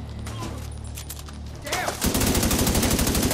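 Automatic gunfire in The Division 2 video game, a rapid, loud burst of shots that erupts partway through after a quieter stretch of game ambience.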